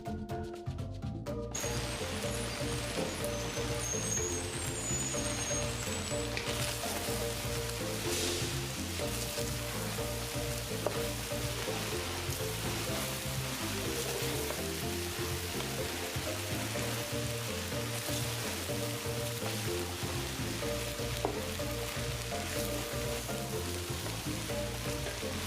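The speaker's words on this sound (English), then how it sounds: "I'm adding everything in and giving it a good mix as well." Carrots, onions, celery, sweet peppers, pumpkin and thyme sizzle steadily in a pot while being mixed for Trini chicken pelau, a continuous close frying hiss with faint stirring and background music.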